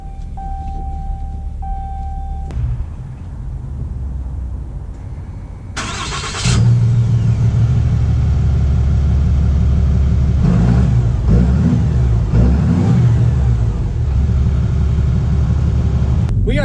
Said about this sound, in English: We are setting off here in the 2019 Ram 3500 dually